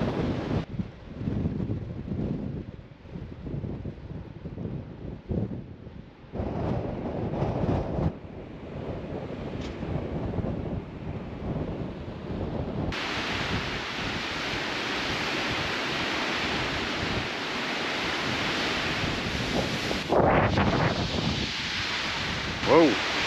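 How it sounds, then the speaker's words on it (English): Strong wind gusts on a hilltop beside a lake roar across the microphone. The buffeting is rough and uneven at first, then becomes a sustained, louder rush that surges again late. "That's a big gust."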